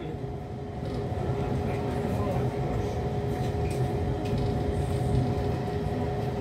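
Riding aboard the Argo Cheribon train as it rolls into Jatinegara station, a steady low rumble of wheels and carriage noise fills the cabin, with a faint sustained tone and small clanks.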